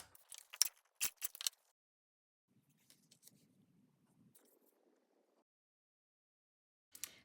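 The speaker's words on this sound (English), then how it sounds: "I need to trim this blue piece down, probably about that much." Scissors make several quick crisp snips trimming a blue paper piece for a collage, followed by soft faint rustling and one final snip.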